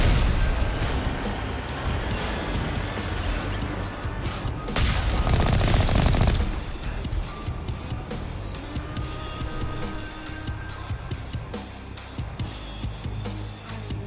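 Gunfire in the Mass Effect Legendary Edition video game, with bursts of shots striking and passing through a snowbank: repeated sharp cracks and rattling volleys over a constant battle rumble, swelling in a loud cluster partway through.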